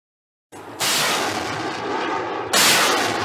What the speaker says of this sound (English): Syrian artillery and Russian jets in an all-out assault by Bashar al-Assad's forces in northwest Syria